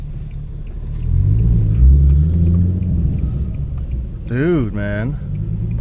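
A tuned car engine rumbles low and heavy as it accelerates, swelling then easing, with a voice briefly exclaiming over the engine noise toward the end.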